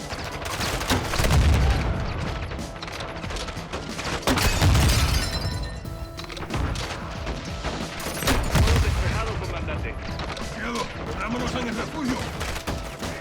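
Dense video-game gunfire from Call of Duty Modern Warfare 2 during a cartel mission, with heavy low booms near 1.5, 5 and 9 seconds amid continuous crackling shots and clutter, while voices talk over parts of it.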